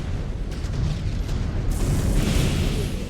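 Missile explosions rumble heavily in the MechWarrior Clans video game, a loud, deep, sustained booming blast that swells with a burst of crackling debris partway through.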